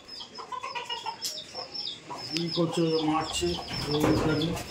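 Small chicks cluck and peep busily while pecking at rice, close and lively, with clucks growing denser and louder toward the end; no talk is heard.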